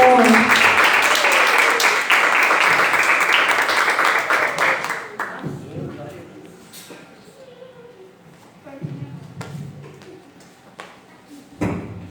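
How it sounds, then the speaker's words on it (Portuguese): Church congregation applauding during a Pentecostal-style service: loud, dense clapping that fades after about five seconds into scattered claps, murmurs and spoken voices. "Glória a Deus, aplauda o Senhor."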